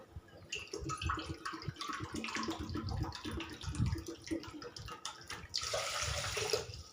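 Water is poured from a bowl onto sugar for gulab jamun syrup, a close, splashy trickle that runs steadily for several seconds and swells into a heavier gush near the end.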